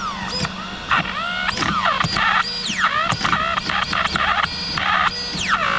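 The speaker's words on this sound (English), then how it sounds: "This servo hates its life." Steering servo on an Arrma Kraton 6s RC truck straining, giving repeated high whining squeals that rise and fall in short bursts over a steady low hum, close and fairly loud.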